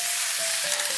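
Zucchini stir-frying in perilla oil over medium-low heat gives a dense, continuous close sizzle that stays loud and even for a brief moment, with no voices.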